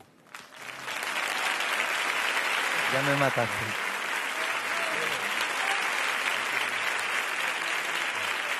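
A concert audience at a show bursts into loud, sustained applause after a brief spoken line, with a voice briefly heard over the dense clapping of the crowd.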